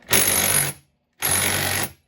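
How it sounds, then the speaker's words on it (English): A Snap-on impact wrench rattles loudly up close while tightening a fastener during a Husqvarna 395 chainsaw rebuild, firing in two sustained bursts of about half a second each with a pause between them. "This snap-on impact wrench is awesome."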